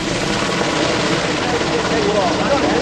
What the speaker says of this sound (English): The aircraft's going to do this last flypast